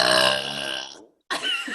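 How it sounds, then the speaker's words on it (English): One long, loud, close burp from a girl in a burping contest, with a strongly voiced, raspy tone that fades out. It is followed by a brief silence and then a short burst of further vocal noise. "that's my first burp"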